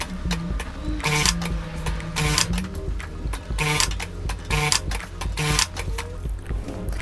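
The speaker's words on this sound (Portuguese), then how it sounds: "nós vamos para a máquina galoneira" A coverstitch sewing machine (galoneira) runs in rapid bursts while a leopard-print piece of a top-style bra is sewn, close mechanical whirring and stitching starting and stopping over background music.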